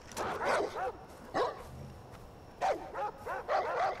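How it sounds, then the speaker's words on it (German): Dog barking in the video game Far Cry 4: several sharp bursts of barks in two clusters, fairly loud and close, with a short gap of quiet game ambience between them. "Der Hund!"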